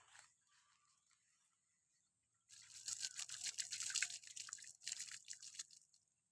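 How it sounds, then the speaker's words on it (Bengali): Water is poured onto plants in a close, splashing trickle that starts abruptly after a quiet moment, runs for about four seconds and then tapers off. "পানি দিতেছি।"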